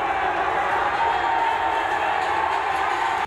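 An unruly crowd at a gurdwara gate in Nanded, a loud dense roar of many voices shouting and cheering, sustained without pause.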